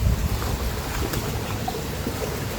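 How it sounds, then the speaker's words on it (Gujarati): Water runs steadily along a field irrigation channel on a farm, a continuous broadband rushing and gurgling with some wind buffeting on the microphone, with no voices. "અહીં પાણી હાલે છે દોરિયામાં"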